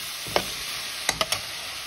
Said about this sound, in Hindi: हम इसमें ये आलू डाल देंगे, थोड़ी सी आलू की बनाई करेंगे।